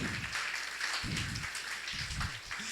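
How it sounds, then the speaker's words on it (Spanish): A church congregation gives loud, sustained applause, a dense hiss of clapping with low thuds of voices or movement breaking through now and then. "Con ese mismo entusiasmo regalarle un fuerte aplauso al Señor"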